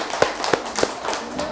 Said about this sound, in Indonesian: Oke, beri tepuk tangan untuk kita semua.